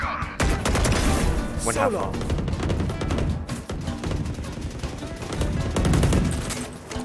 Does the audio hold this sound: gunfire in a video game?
yes